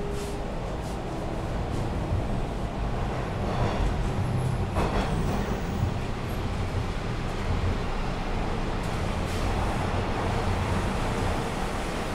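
Toronto T-1 series subway train running between stations, a loud steady rumble and roar of wheels and motors with faint squeals on top, continuous and close, with no talking.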